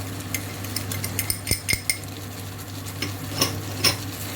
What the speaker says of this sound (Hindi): इसको अच्छी तरह मिक्स करती हूँ ताकि ये पक जाए